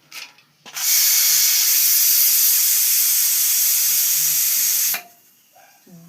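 A pressure cooker boiling potatoes and soybeans releases one long loud whistling hiss lasting about four seconds, starting and stopping abruptly, with quiet kitchen sounds before and after.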